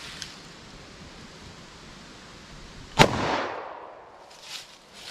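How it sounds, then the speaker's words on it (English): Single sharp gunshot from a .357 Magnum snub nose revolver fired into a test target, one loud close crack followed by a brief rustling decay, otherwise quiet. "So let's see what we get with our 357 Magnum snub nose."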